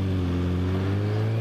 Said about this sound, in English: you're going to get a huge rev out your engine